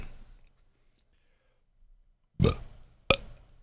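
A person lets out two burps after near silence, the first a loud, rough drawn-out belch and the second a short sharp one, close to the microphone.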